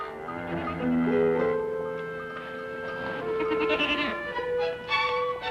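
A goat bleats close by in a series of loud, wavering, drawn-out calls that rise and fall over several seconds, with no other sounds competing.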